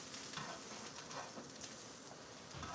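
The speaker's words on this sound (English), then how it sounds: "Give this a nice stir" Ravioli minestrone soup stirred in a pot, a steady soft scraping and liquid churning over a continuous low sizzle, close and moderately quiet, with no voices.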